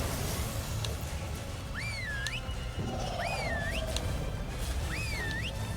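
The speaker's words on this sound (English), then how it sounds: "Alright, whistled 3 times at it, so hopefully they'll swarm it." In the survival video game ARK, a player gives three whistled commands, each a rising-and-falling swooping whistle spaced about 1.5 seconds apart, over a dense rumble of game noise.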